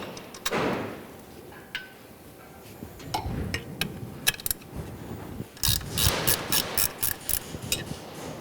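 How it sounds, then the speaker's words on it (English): A ratchet loosens and removes 3/8 bolts on a Commander 3 machine's motor mount, giving close metallic clicking in quick bursts with clinks and brief pauses between runs. "We're going to go ahead and loosen and take out these 2 3/8 bolts."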